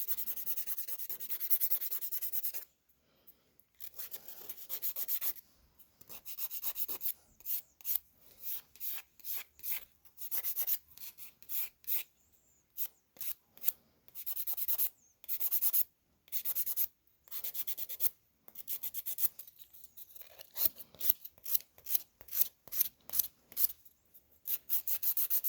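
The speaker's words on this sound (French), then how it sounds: "pour ceux qui ne savent pas comment limer leurs ongles de la mauvaise main, là, tu tiens ta lime, puis tu bouges ton autre main" A nail file rasps back and forth across a sculpted fingernail in quick bursts of close, dry scratching strokes, separated by brief pauses, with no voices.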